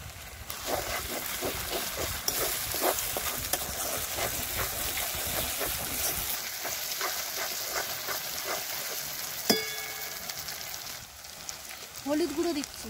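Chilli paste sizzling as it hits hot oil with fried ginger, garlic and onion in a village kitchen, a busy crackling fry with scraping stirs and a few clinks, briefly louder near the end.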